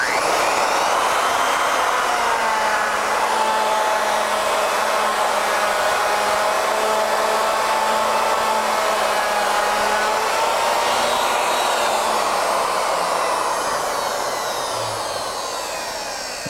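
Router bit cutting wood on a Legacy ornamental mill, a loud, steady high-pitched whine held throughout, tapering slightly at the end, with no talk.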